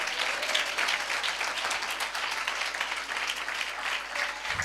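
A church congregation claps loudly at a Palm Sunday service, a continuous dense wash of hand claps sustained evenly throughout, heard fairly near with no voices over it.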